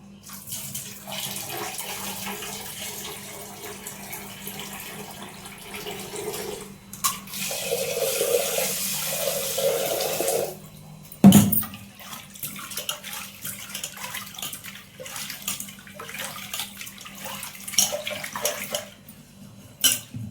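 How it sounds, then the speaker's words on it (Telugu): Water runs and splashes into a bowl as lentils are rinsed, with a brief clatter midway, then more pouring and swishing; no one speaks. "ఈ వాటర్ వంపేసుకొని మళ్ళీ వాటర్ పోసుకొని కడిగి బాగా వంపేసుకుంటాను."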